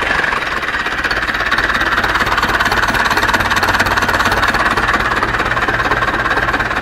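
Ursus C-360 tractor engine idling with a steady, continuous low rumble and knocking chug, loud and close, running alone without pause.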